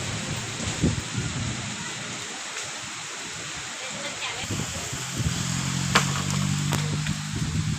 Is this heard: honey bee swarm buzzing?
no